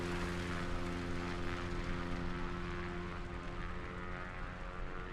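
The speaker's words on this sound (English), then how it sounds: "And we're flying this little happy airplane." Small NX Cub propeller airplane in Microsoft Flight Simulator drones steadily in flight, a continuous buzzing engine hum with no breaks, even in level and fairly faint, with no speech.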